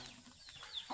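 Chickens in a rural Hmong farmyard give a few soft, short clucks, faint and close together over low background noise.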